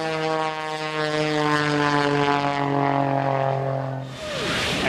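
An aerobatic propeller plane flies at the Fort Lauderdale air show, a loud, steady droning engine tone with a strong pitched whine that shifts as it passes, ending in a brighter roar.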